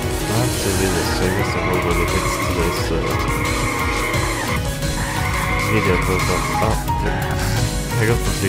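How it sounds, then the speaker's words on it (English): A car drifts across grass in the Drift86 racing game, its engine droning steadily with tire skidding and squeal layered over background game music throughout. "so I see that's how drifting in grass works"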